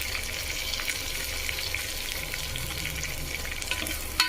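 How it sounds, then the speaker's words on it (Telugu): Mint and ginger garlic paste fry in a pan with fried onions, giving a steady close sizzling hiss with light occasional stirring, no voices. "బాగా వేగనివ్వాలి."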